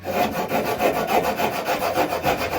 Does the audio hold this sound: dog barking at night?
no